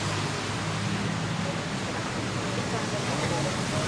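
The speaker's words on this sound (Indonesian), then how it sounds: "ngadem dulu, hujan lagi. Hujan juga." Rain falls in an Indonesian setting as a dense, unbroken hiss that fills the background, with a low murmur of voices and a faint hum underneath.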